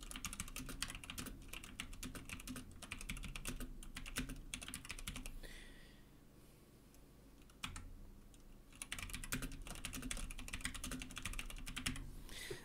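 Keys clatter quietly on a computer keyboard as a screensaver message is typed in quick, uneven bursts, with a short pause partway through before the typing picks up again.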